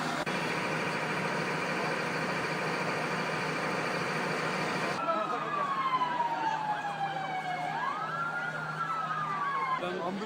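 A loud ambulance siren wails nearby, first a steady blaring tone, then shifting into sweeping rising and falling howls.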